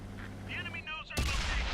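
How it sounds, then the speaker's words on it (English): A single heavy tank cannon shot in World of Tanks booms suddenly near the end, after a brief stretch of quieter game sounds. "shooting at the T-34-85 and it hits the KV-4 right next to him"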